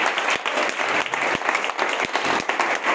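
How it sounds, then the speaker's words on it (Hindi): A seminar audience at a mega seminar in Amroha, Uttar Pradesh, breaks into loud, dense applause. The clapping holds steady throughout, with a few sharper claps standing out from the crowd. "तो एक बार सब लोग जोरदार तालियां खुद के लिए"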